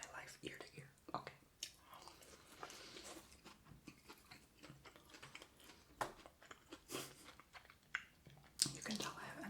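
Close, wet chewing and crunching of Domino's pizza bites in a mukbang eating session, with soft irregular mouth clicks and smacks throughout, while quiet whispered talk sits under the sounds.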